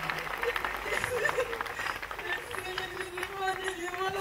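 Congregation at an evangelical crusade in Douala, Cameroon, clapping together in a steady, fairly loud wash of hand claps, with voices and music-like tones running underneath throughout.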